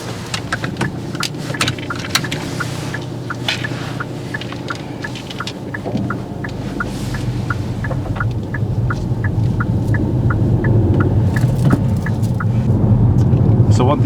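A learner's car pulls away on the drive to the driving test centre, engine hum building gradually and growing louder, with a steady ticking indicator and people talking inside the car.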